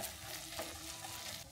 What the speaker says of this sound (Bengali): বাটা মশলাগুলো আমি একটু ভেজে নিব নেড়ে ছেড়ে